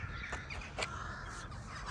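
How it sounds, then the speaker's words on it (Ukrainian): Crows or magpies caw outdoors on a mild day of about 9 to 10 degrees, several short harsh calls spaced apart at a moderate distance over steady wind and background noise. "Ворони чи сороки літають, там щось."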